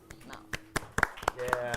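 A small studio audience at a game show claps for two teams, with scattered, uneven hand claps that come as separate sharp slaps and thicken briefly toward the end.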